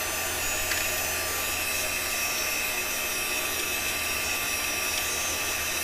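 A heat tool blowing hot air over cardstock, a steady whooshing whine that holds constant and close for several seconds, with no talking.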